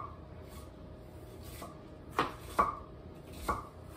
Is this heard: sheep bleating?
no